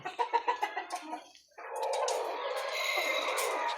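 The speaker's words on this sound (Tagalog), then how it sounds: "mao ni sila ang atong mga brood hen nga nagproduce sa mga anak" Brood hens give a quick run of rhythmic clucks close by, followed by a denser, continuous stretch of mixed clucking and chatter from the flock.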